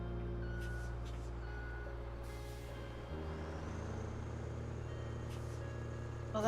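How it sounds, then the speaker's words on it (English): A steady low truck engine rumble runs throughout the road-building video game RoadCraft, with faint intermittent high beeps, like a vehicle reversing, fairly quiet and continuous. "I can hear your truck."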